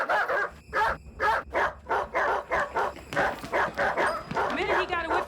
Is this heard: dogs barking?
yes